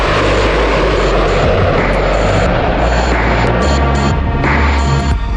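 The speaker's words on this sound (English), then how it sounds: "When the B-2 makes its maiden flight on July 17, 1989, it flies every bit as good as it looks." B-2 stealth bomber in flight, a loud continuous jet roar with a low steady hum, sustained without a break.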